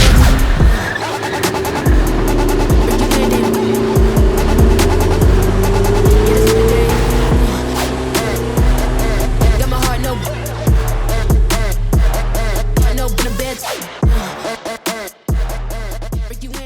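Mercedes E420 CDI bi-turbo diesel V8 car running loud and close for the whole stretch, with rising engine tones, sharp mechanical clicks and bursts that suggest tire noise, and no talking.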